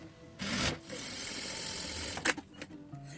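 A sewing machine runs a straight seam on a fabric box case, a steady mechanical whir of stitching that starts after a brief handling noise and ends with a few clicks and bumps.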